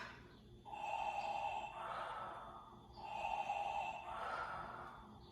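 A person imitates Darth Vader's breathing, two slow rasping cycles of a hissing inhale and a heavier exhale, close and steady, with no talk over it.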